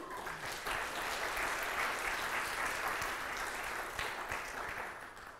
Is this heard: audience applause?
yes